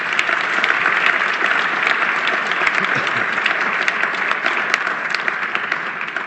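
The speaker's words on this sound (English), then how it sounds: "please a round of applause for our sponsors" Sustained audience applause at a nonprofit club's luncheon honoring its sponsors, with a Conservative Party of Canada leadership candidate as guest: dense, steady clapping from a large crowd that fills the whole stretch at even loudness.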